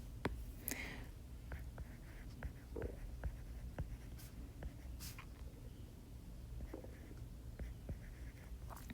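Pen scratching on paper as notes are handwritten for a genetics lesson, faint irregular strokes and taps over a low room hum, with no speech.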